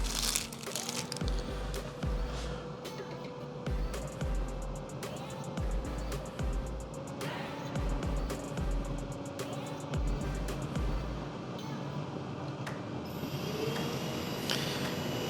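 A Cooltronic 24V DC parking cooler air conditioner's fan whirs steadily with a constant tonal hum, mixed with rustling handling noise close by.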